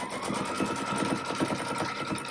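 A sewing machine stitches a tack-down line through a quilt block with Warm and Natural cotton batting, running as a steady, close, continuous mechanical whir with a rapid needle rhythm and no talking.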